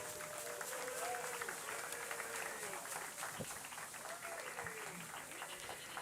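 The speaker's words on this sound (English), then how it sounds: "let's give a round of applause to the coaches as well as all of these student athletes" An audience at a city council meeting applauds coaches and student athletes, a steady patter of many hands clapping at moderate distance, with a voice speaking over it.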